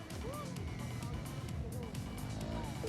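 Motorcycle engine in a moto gymkhana run dropping from second to first gear, with rising and falling pitch sweeps over a steady, close engine drone and background crowd noise.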